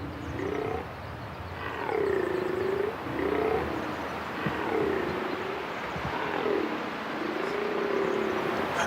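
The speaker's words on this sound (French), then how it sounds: "c'est le cri rauque, c'est la vocalise qu'émet le cerf, le mâle, donc, pendant la période de reproduction" Red deer stag bellowing during the autumn rut in Corsica, a series of deep, hoarse drawn-out roars repeating roughly every second or two, moderately distant, with faint bird calls in the background.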